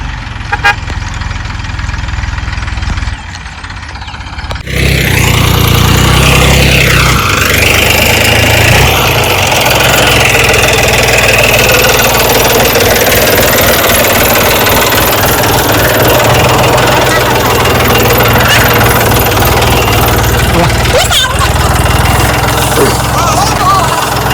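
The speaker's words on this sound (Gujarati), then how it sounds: "ટ્રેક્ટર કાઢવાનું" A tractor engine starts up in a peanut field on harvest morning, quiet at first, then from about five seconds a loud, steady, close-up roar and rumble that holds to the end.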